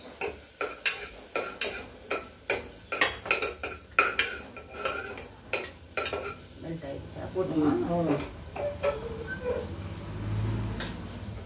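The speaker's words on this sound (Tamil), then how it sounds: "இப்போ வெண்ணெய் போட்டாச்சு. இப்போ இதுக்கு கொஞ்சம் ஜீரகம்," A utensil scrapes and taps in a pan as cumin goes into melted butter, a quick series of sharp metallic clinks followed by softer stirring and a faint sizzle, close up.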